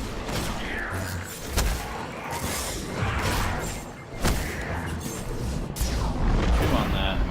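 Hand cannon gunfire in the video game Destiny, on Venus: several heavy, booming shots over dense game effects and a steady action soundscape, with a few louder sharp blasts standing out.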